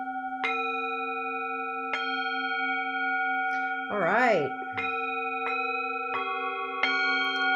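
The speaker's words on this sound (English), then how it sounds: "Using the bells, using the bowls." Bells and singing bowls struck one after another for an energy-work session, each strike ringing out in long sustained overlapping tones, with one wavering, swelling bowl note in the middle and a brief spoken remark.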